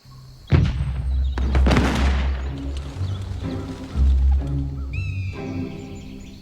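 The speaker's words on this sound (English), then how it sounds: "Peter heard gunfire from far away" Several sharp booms and cracks of gunfire echo from a distance, irregular and spaced apart, with faint birdsong chirping near the end.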